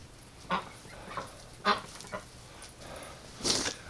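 Several ducks give brief scattered quacks and honks in a winter outdoor setting, about five calls over a few seconds, fairly faint against quiet background noise.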